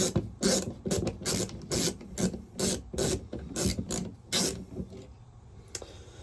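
A ratchet screwdriver turns in repeated bursts of rasping clicks, each stroke about half a second long with brief pauses between, close and fairly loud, then falls quiet near the end, with no talk.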